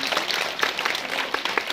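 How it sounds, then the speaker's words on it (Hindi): A school crowd at an Independence Day event gives loud applause for a class 10 student, many hands clapping densely and steadily at close range for the whole short stretch. "इसके लिए जोरदार तालियां इस बार।"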